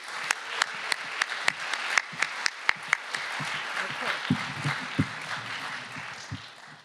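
An audience claps in steady applause to welcome keynote speaker Dr. Elizabeth Croft at the RAIS2025 event, with sharp individual claps standing out early before the sound thins and fades.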